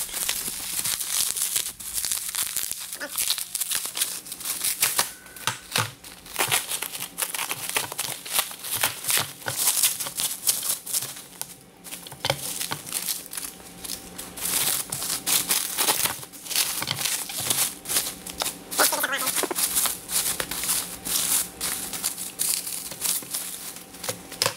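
Plastic packaging around a new motorcycle stand is torn and unwrapped, giving continuous crinkling and tearing with sharp crackles, close and fairly loud, no talk.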